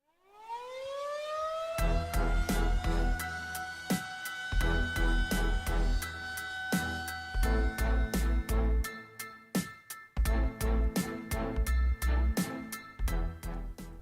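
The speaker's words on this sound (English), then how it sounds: "Hit the air raid siren sign for Monday Morning Fallout" An air raid siren winds up and wails at a steady high pitch while pounding, rhythmic drum hits play loudly beneath it.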